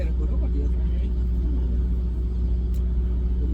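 Deep, steady engine rumble from an 80,000 lb semi truck on the road, droning continuously at close range with talk over it.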